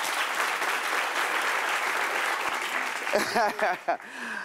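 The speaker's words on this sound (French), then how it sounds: "on peut l'applaudir très fort" A studio audience claps energetically in sustained applause that fades out, after which a voice starts speaking over the last scattered claps.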